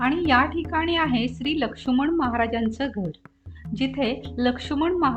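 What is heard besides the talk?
No everyday noise stands out behind the speech.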